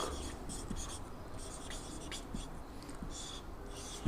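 Steady scratching of writing on paper or a board during a Bengali physics lesson working through a diffraction grating problem, faint and continuous, with occasional soft taps and no speech.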